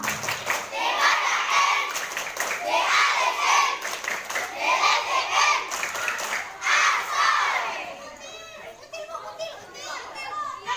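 A group of schoolchildren at an elementary school scout activity perform the tepuk bencong clap chant, loud rhythmic bursts of clapping and shouted chanting repeated several times, then tapering into chatter at the end.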